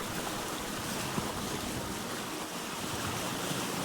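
Open ocean waves in the survival game Vintage Story form a constant broadband wash of surf and wind, steady and enveloping throughout, with no voices.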